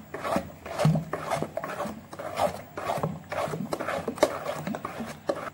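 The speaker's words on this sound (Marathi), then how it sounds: "हे असं सर्व छान फेटून झालं, 2-3 मिनिट तरी फेटून घ्यायचं याला" Idli batter being whisked by hand in a bowl, a repeated rhythmic rasping scrape about once every half second, close and clear with no talking.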